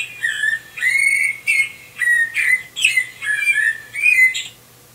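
A blackbird's song slowed down on a computer becomes a series of clear, loud whistled phrases, about eight in a row with brief gaps, falling and rising like a human whistle over near silence.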